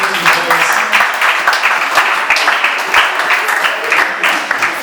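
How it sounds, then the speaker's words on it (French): An audience at a quiz show event gives loud, sustained applause for all participants, many hands clapping densely and evenly for about five seconds, close and full. "Est-ce que nous pouvons applaudir pour tous les participants?"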